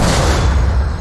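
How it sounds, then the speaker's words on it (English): A cannon fires in the adventure video game Monkey Island 2, a single loud, full booming blast that fills the whole short moment. "I'd better fire the cannon."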